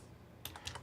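Keys on a computer keyboard tap out a preset name in a quick run of four or five soft, close clicks over a faint steady hum.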